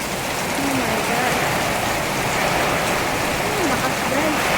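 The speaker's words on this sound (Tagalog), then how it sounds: "ang lakas ng ulan" Heavy rain pours down in Manila, a dense, steady roar of water that runs unbroken throughout, with faint distant sounds in the background.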